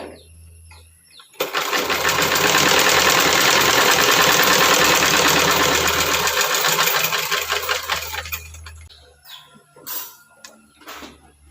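Electric sewing machine stitching the seam of a pair of trousers, a loud, steady, rapid whir running for about seven seconds, then stopping and giving way to faint handling clicks.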